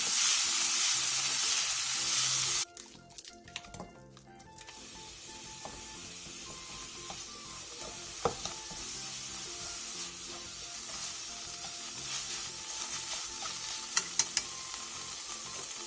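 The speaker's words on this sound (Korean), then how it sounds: "2분 정도 더 볶아주세요." Chives, tofu and minced garlic are stir-fried in a pan. A loud hiss at the start drops away, then a quieter steady sizzle carries sparse clicks and scrapes of the spatula against the pan.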